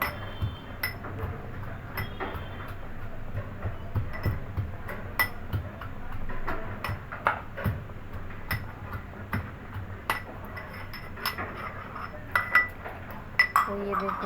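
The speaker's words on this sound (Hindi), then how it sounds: "तो इसके लिए टमाटर मैं इसमें कूट दे रही हूँ।" Tomatoes are pounded in a small metal vessel, giving a steady run of close, clinking thuds and knocks, irregular in rhythm, with a low hum underneath.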